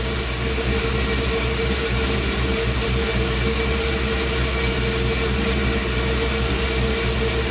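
An LS-swapped Chevy C10 truck on a Holley Terminator X setup runs steadily, a loud, unbroken engine drone with a constant high whine laid over it, close to the microphone and with no voices.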